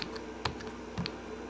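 Typing on an Atari Portfolio handheld computer keyboard, a few faint, sparse plastic key clicks in quick irregular succession, close and quiet.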